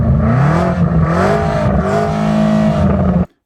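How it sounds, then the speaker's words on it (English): A BMW M5 estate's engine is revved hard in full exhaust mode, giving a loud, close, continuous roar with rising and falling pitch that holds for about three seconds and then cuts off abruptly. "Go on, Sam, you rev yours."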